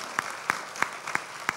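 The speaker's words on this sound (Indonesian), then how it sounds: "Luar biasa, tepuk tangannya." At a media conference panel session, five sharp, evenly paced claps ring out clearly against a quiet room, sounding like a small, sparse round of applause.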